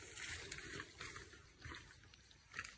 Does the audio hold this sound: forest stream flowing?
yes